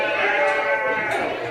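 At a grass-ring sheep show, a sheep gives a loud, close, sustained bleat with a wavering tone that lasts the whole moment before easing off.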